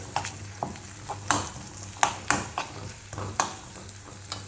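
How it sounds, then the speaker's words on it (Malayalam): Eggs cracked into a pan with softened onions fry with a low steady sizzle, punctuated by repeated close scraping and stirring clacks of a utensil against the pan. "ഉള്ളി ഒന്ന് വാടട്ടെ എന്നിട്ട് മുട്ട ഇട്ടിട്ട് വറുത്ത് കൊടുക്കാം"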